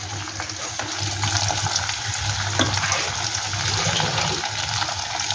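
Taro root chips fry in hot oil over a low flame, giving a steady, soft sizzling hiss that continues evenly throughout with no talking.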